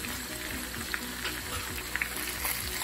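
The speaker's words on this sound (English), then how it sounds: "We're gonna add some minced garlic." Minced garlic frying in a pan for a steak, potato and bacon casserole, a steady close sizzle and crackle with light stirring scrapes running throughout, no voices.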